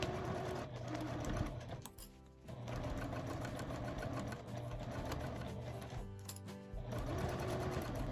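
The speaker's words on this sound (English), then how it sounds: "And turn on your sewing machine." A sewing machine stitches a beginner fabric pouch at a 2.5 millimeter stitch length, running a steady, close mechanical whir with two short pauses before resuming.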